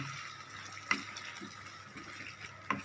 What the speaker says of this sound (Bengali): এটা বাটি ধুয়ে একটু জল দিয়ে দেবো